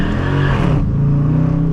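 Dodge Challenger R/T, just shy of 400 horsepower, on a full launch toward the highway: the engine roars loud and close, climbs hard, then drops into a lower steady drone as it shifts up.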